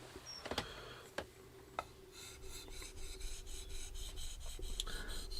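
Schrade Frontier SCHF 42D knife is drawn in short strokes over the 1000-grit side of a whetstone, a close, quiet, rhythmic rasp that turns steady after a few clicks and taps, with no talk.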